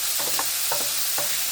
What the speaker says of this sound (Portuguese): Bora virar aqui com a colher. Ó, dá uma mexida.